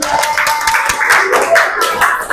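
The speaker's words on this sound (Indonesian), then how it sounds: "Silakan beri tepuk tangan" Classroom audience clapping for a student group during a teaching performance assessment, with steady, moderately loud applause running through and voices mixed in.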